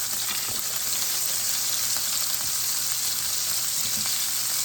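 Burger patties for mushroom Swiss and American burger subs sizzle steadily on a grill, a dense, even frying hiss held at constant loudness throughout, with faint scattered pops and no talking.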